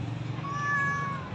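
A Persian cat gives a single drawn-out meow, close and clear over a low background hum, with no one speaking.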